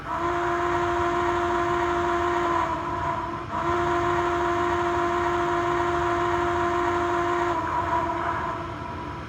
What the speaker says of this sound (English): I'll play the whistle for 4460